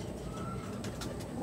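Pigeons of a strong show line coo softly and low in a loft, a quiet steady murmur with a few faint higher calls near the end.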